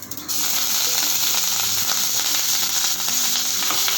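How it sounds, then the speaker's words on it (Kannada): Mustard seeds crackle and sizzle in hot oil with byadgi chillies and curry leaves, a loud continuous frying hiss with scattered popping, close by and without voices. "ಒಂಚೂರು ಎಣ್ಣೆ ಸಾಸಿವೆ ಹಾಕ್ಕೊಂಡಿದ್ದೀನಿ"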